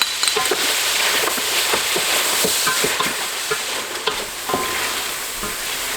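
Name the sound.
beef frying in pan with yogurt added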